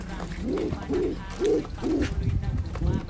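Two pigeons inside a brand-new training box coo in a steady series of soft, low, throaty calls, close by, with a faint voice and background noise underneath.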